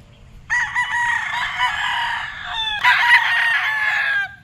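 Killer White gamefowl rooster at Edlum Game Farm in Tanuan City, Batangas, crowing loudly and close, one long drawn-out crow over low background noise.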